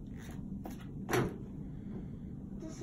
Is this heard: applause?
no